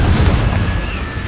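A Confringo fire spell blast in the video game Hogwarts Legacy, a loud, dense rumbling burst that fills the short moment with a steady low boom and no talk.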